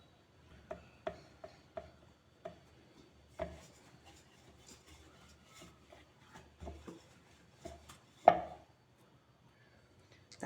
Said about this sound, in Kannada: ಸ್ವಲ್ಪ ಒಣೆ ಹಿಟ್ಟು ಹಾಕಿ ಲಟ್ಟಿಸ್ಕೊಳ್ಬೇಕು